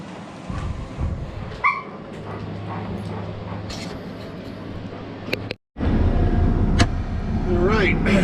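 A dog barks, yips and whimpers in its kennel at a farm during wheat harvest, giving short sharp calls over a running vehicle engine, with a person talking nearby.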